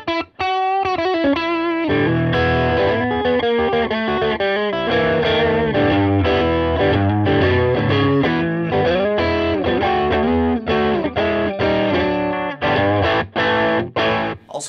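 A thick, overdriven electric guitar through a Nobels ODR-1 overdrive pedal plays a bluesy riff with sustained, distorted chords and bends, loud and close, with no talking.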